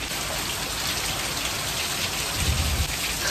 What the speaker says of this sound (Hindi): खतरनाक वाली बारिश हो रही है